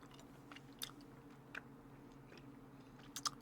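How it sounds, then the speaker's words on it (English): Sour Patch Kids gummy candy being chewed up close, with soft, quiet mouth sounds and a few brief crisp clicks spread across a steady low background hum. No one speaks. "Sour Patch Kids are still pretty satisfying to eat."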